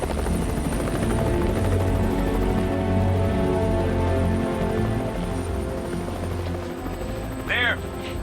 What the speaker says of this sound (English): A specialist Air Force helicopter with night vision headsets has been drafted in to allow the airborne surge to continue through the night.